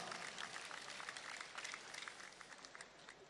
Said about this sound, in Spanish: Gatti, un aplauso para ellos.